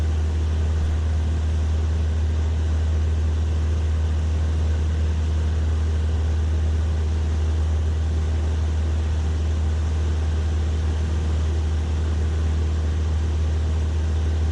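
Cessna Skyhawk propeller plane flying low, its engine and propeller making a steady, loud droning hum that holds unchanged throughout, with no voices.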